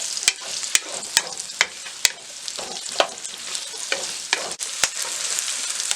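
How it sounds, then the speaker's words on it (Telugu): Onions frying in hot oil in a pan, a steady close sizzle punctuated by sharp clicks and scrapes of a spoon stirring, with no voices. "ఆయిల్ వేడైన తర్వాత 2 కట్ చేసుకున్న ఆనియన్స్ వేసుకొని ఫ్రై చేసుకోవాలి."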